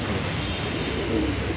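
An old-generation male Madrasi pigeon coos softly and low, a continuous murmuring over a steady background hum, with no voices.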